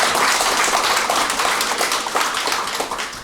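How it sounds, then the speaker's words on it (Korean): Warm welcoming applause fills the hall at a New Year gathering of the Icheon Peace and Unification Forum, many hands clapping densely and loudly for a few seconds, tapering slightly toward the end. "우리 모두를 환영하는 의미에서 큰 박수를"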